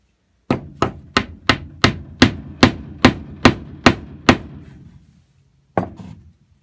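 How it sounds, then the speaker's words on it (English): A steady run of sharp hammer blows driving a glued piece into wood while building a bed in a cargo trailer, about a dozen evenly spaced, then a pause and one final strike. "then I'm going to hammer it in"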